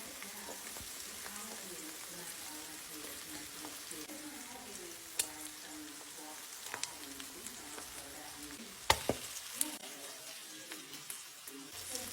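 Food sizzling and crackling in a pan, a steady faint fry with occasional sharp pops and utensil clicks.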